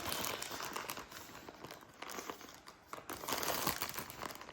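Plastic wrapping around a package crinkles and rustles close by, in irregular bursts of crumpling and tearing as it is pulled open, with no one talking.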